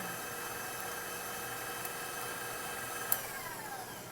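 A stand mixer with its paddle attachment beats a small amount of butter in a bowl, giving a steady mechanical motor hum and whine that holds constant throughout, with one brief clack near the end.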